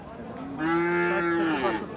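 A Sahiwal bull calf at a cattle market lets out one drawn-out moo, rising and then tapering off. It is close and clear against faint background noise.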